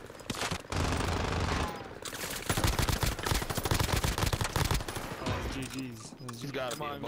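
Gunfire in a video game comes as rapid, loud, close bursts of automatic fire, a dense rattling stream that runs through most of the stretch with brief breaks.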